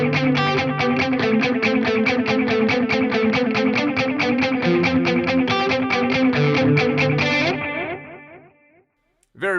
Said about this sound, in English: it's all synced up to the tap tempo, and it is lovely for those edge Alex Lifeson style delays